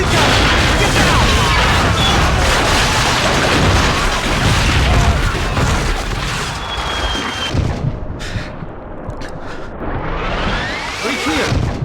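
Loud, dense booming artillery blasts and crashes in Call of Duty: Finest Hour pile up in rapid succession, followed by whooshing and scattered impacts as the barrage thins out.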